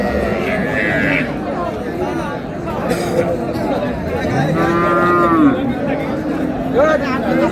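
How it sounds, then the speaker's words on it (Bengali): Cows and calves mooing at a busy Raniganj cattle market, a long low moo rising and falling near the middle, with shorter calls around it over steady crowd chatter and haggling voices. "গাভী বাছুর"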